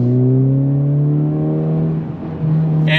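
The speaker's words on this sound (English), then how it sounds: "And it pulls all the way to redline so nicely." A 2023 Honda Civic Type R engine revving toward redline, a loud, close, steadily rising engine tone that dips briefly as it shifts, then resumes with a sharp noise at the end.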